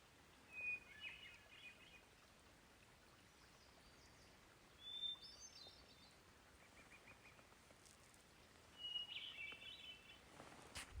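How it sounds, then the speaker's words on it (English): A lone bird gives short, high chirps every few seconds over a faint, steady hiss of open-air quiet in a desert. "Listen to that bird and how quiet and peaceful it is."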